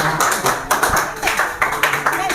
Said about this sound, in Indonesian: mari kasih aplaus untuk kelompok Ambon